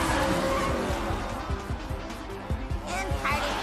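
Cartoon race cars skid and squeal at the start of a race, with engines roaring and repeated sharp tire screeches under a narrator's voice.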